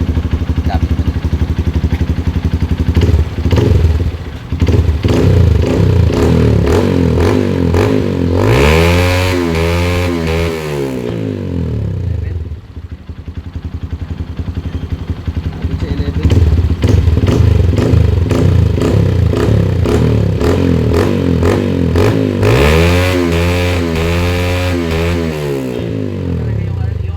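A Honda CRF150L motorcycle with an open pipe revs loudly up close, crackling idle broken by two sharp climbing revs that fall away, with brief voices faintly under the engine.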